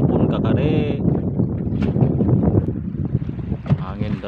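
Strong wind roars and big waves slap against a small fishing boat at sea, loud and continuous buffeting close to the microphone, with brief voices mixed in.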